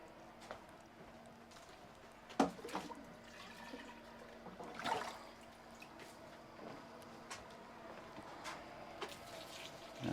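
Water poured onto a banana plant in a garden, a soft trickling splash with a few louder drips and gushes.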